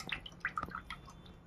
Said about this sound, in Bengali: কড়াই বসিয়ে দিয়েছি, কড়াই দিয়ে দেবো তেল।